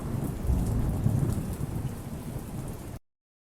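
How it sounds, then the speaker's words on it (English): A thunder sample layered with steady rain, used as a textural bed in ambient music production: a loud, dense wash of rainfall with low rumbling thunder over about three seconds, then sudden silence. "So the way that I did this was I took this thunder sample,"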